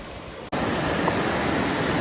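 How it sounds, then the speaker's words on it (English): The Laurel River rushes through a deep granite gorge in Madison County, North Carolina, as a steady, loud broadband roar of flowing water with no voices. "This is the Laurel River"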